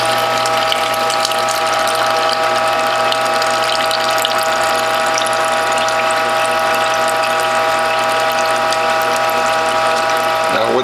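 A Norwalk juicer press is advanced while pressing citrus and ginger, with rapid ratcheting clicks over a constant mechanical hum that continues evenly throughout.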